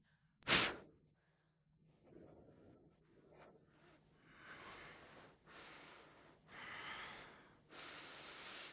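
Slow, deep breaths during a yoga flow in crescent pose, with a sharp snort-like exhale near the start followed by several long, airy inhales and exhales that swell and fade in a steady rhythm, close and alone.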